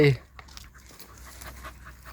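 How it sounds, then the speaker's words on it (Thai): Several dogs panting hard after running a long way through deep forest, a soft rapid breathing texture heard close, with a brief louder sound at the very start. "หอบกันนะครับวิ่งมาไกล"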